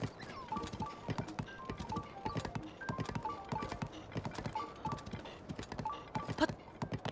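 Horse hooves clip-clop in a steady trotting rhythm in Zelda: Tears of the Kingdom, fairly close and continuous over game music, with a brief whinny-like tone near the end.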